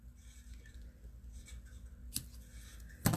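Scissors trimming the ribbon tails on a handmade wedding card, two crisp close snips in a quiet room, the last one sharp and loud.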